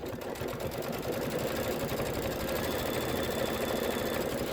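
An embroidery machine stitches an applique, giving a fast, steady mechanical chatter with a constant hum that runs evenly and close throughout, with no voices.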